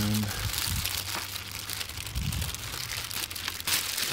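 Plastic wrap crinkles and tears as it is pulled off a Sceptre curved monitor, close rustling and crackling bursts through the clip; a voice speaks under the crinkling.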